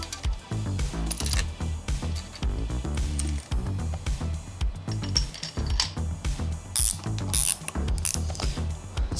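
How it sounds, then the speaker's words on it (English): Rapid, close ratchet clicking in repeated bursts as camshaft caps are torqued down evenly on a 4B11T cylinder head during an engine rebuild, with occasional metallic clinks between strokes. "so now our cylinder head is torqued and mated to the block, so we can put the cams in and start torquing them down."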